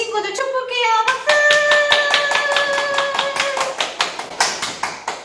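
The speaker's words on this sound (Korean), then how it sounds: "박수!" A church congregation claps in a quick burst after a greeting on a children's Sunday service, the sharp, even claps ringing close and loud for several seconds, with a bright tonal chime or music note sounding at the start.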